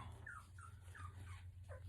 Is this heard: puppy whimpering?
yes